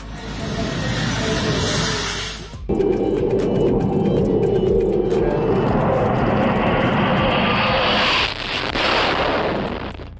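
Jet aircraft engines with afterburners roaring at an air show, a loud sustained rumbling blast that cuts abruptly, resumes with a harsh crackling roar, then brightens into a hissing rush near the end.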